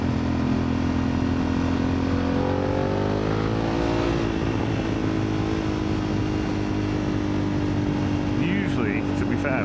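A BMW F900R motorcycle fitted with a titanium MIVV GP PRO exhaust runs steadily with a loud, close engine drone. The pitch rises slightly partway through, and wind noise or rumble stays heavy throughout.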